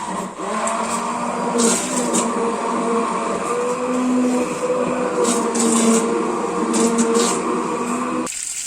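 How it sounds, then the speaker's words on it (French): Kitchen blender puréeing a reduced lettuce cream soup, a steady loud motor whir with a pitched hum running continuously for several seconds before cutting off near the end. "Donc je vais la mixer."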